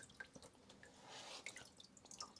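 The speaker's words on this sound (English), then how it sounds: "I'm picking it up out of the water" Water drips from a sheet of wet paper as it is lifted out of a water bath during photopolymer plate work, giving faint, scattered drips and a brief soft trickle in a quiet room.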